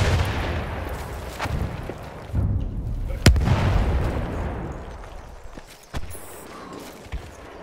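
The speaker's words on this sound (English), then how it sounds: "Stop bombing us!" Bombing explosions in the World War I video game Battlefield 1: several heavy booms with rolling rumble, one sharp close crack in the middle, and later smaller distant blasts fading out.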